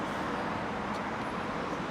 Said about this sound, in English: This is one of the main streets, so it's going to be busy.